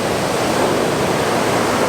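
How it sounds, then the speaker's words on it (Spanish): Sea waves break on the shore at Yelapa beach near Puerto Vallarta, Jalisco, giving a steady, full, rushing wash of surf that stays loud and unbroken, with no voices. "imagínense dormir aquí con el sonido del mar"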